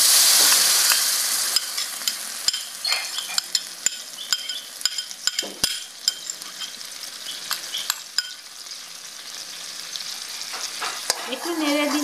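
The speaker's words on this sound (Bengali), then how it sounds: "এখন যে মাখনটা আছে আমি এটাকে ঢেলে দিচ্ছি" Butter made from milk cream poured into a hot pan to cook down into ghee. A sizzling hiss swells at first, then breaks into a run of scraping and clicking stirring sounds.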